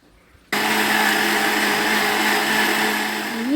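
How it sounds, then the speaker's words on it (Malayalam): A mixer grinder whirs loudly as it blends the marinade for alfaham chicken, starting abruptly after a quiet moment and then holding a steady, continuous motor drone that shifts slightly in pitch near the end. "അൽഫാമിനുള്ള സാധനങ്ങളൊക്കെ മിക്സിയിൽ ഇട്ടിട്ടുണ്ട്"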